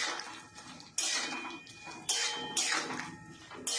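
A pan of spiced potato, bean and paneer curry being stirred, with a utensil scraping and clinking against the pan in several strong bursts across a few seconds, close and fairly loud, with no talking.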